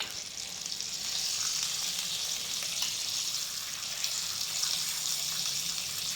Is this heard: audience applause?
no